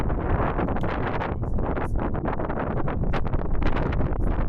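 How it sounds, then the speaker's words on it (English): Strong wind roaring across the open Pinnacles Desert in Nambung National Park, a loud, steady buffeting rush hitting the microphone throughout with no break. "The wind here is blowing quite strong."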